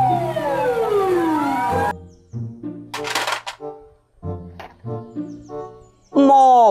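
A toy fire truck gives a loud electronic siren that sweeps downward, cuts off, then a short siren burst returns at the end, with a voice speaking in the gap.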